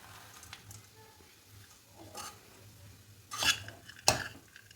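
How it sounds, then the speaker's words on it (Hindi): Roasted dry fruits stirred into a warm sugar-free date mixture in a pan, heard as soft scraping and shuffling with a few louder clanks of the spoon against metal near the end, and no voices. "अब इसको अच्छी तरह से हमको मिक्स करना है"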